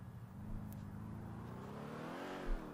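A car driven in the GTA V game, its engine droning steadily with rising and falling harmonic tones like gentle revving, loud and continuous with no talking.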